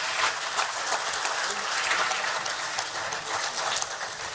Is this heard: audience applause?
yes